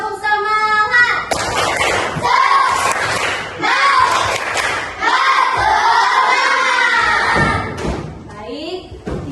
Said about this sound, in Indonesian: Oke, sekali lagi tepuk semangat.